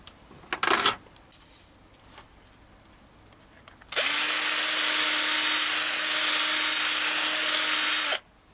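Brass ferro rod handle being deburred on a Chinese mini lathe: a few faint clicks and a short rattle, a pause, then the machine runs with a loud steady bright hiss and whine for about four seconds before stopping abruptly.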